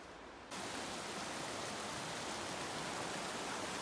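A creek flows beside a Rocky Mountains hiking trail, a steady broadband rush of water that swells in after a brief quieter start and continues evenly, close and fairly loud, with no talking.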